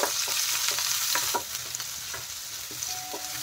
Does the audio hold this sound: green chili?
yes